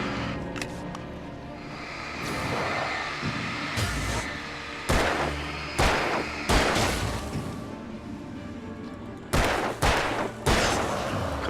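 Repeated gunshots ring out in the video game Alan Wake, several loud, sharp blasts spaced a second or two apart over a droning game soundscape, some closely paired.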